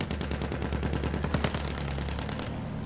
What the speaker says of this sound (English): Shooting a bomber.